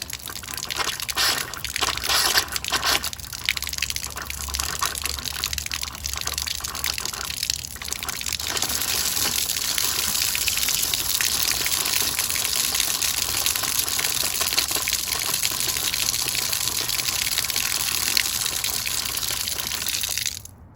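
Water gushing steadily from an outdoor faucet as trapped air is purged from the line, a loud continuous rush with sputtering irregularities early on that settles into a strong even flow until it cuts off at the end.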